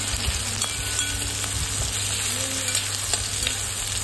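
Mixed vegetables frying in a pan for masala idli fry give a steady, close sizzle throughout, with light stirring scrapes and no talk.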